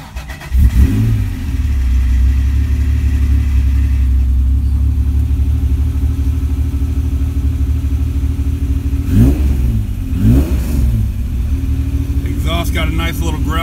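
An older Honda NSX sports car engine catches and settles into a loud, steady idle with a low exhaust growl, then gives two quick revs near the end, with a voice speaking over it.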